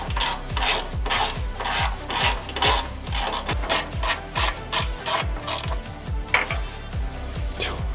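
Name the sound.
ratchet removing bolts from a plate on a Subaru WRX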